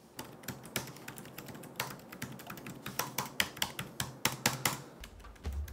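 Rapid, irregular clicking of keys typed on an IGNIC Bybook Pro 14X laptop keyboard, close and crisp, in bursts of keystrokes with no voices.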